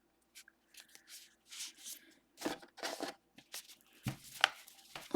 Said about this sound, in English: There's nothing better than the sound and feel of this deck when you shuffle it.